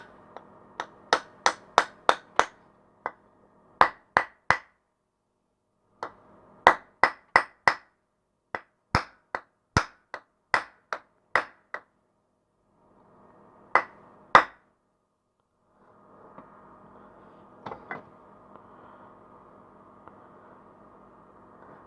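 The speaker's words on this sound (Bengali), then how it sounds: "একটা কাঠ দিয়ে বাড়ি দিয়ে" A piece of wood strikes a part into a small motor while a DC grinding machine is built at home, giving sharp knocks in quick bursts of several blows with pauses between and faint background noise.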